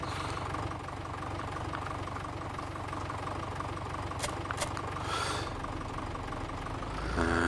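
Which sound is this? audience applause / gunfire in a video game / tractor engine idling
tractor engine idling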